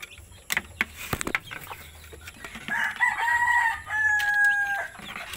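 A mother hen with a brood of twenty-one chicks, clucking and sputtering in bursts, then a long drawn-out crow-like call, all close with no talking.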